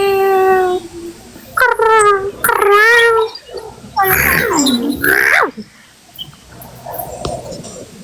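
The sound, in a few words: person imitating a dog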